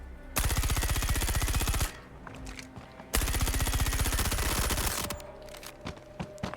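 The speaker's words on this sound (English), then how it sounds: "They're shooting my ship." Sustained bursts of rapid machine-gun fire pound the player's ship in Star Citizen, two long loud volleys with a brief gap between them, then scattered impacts trailing off.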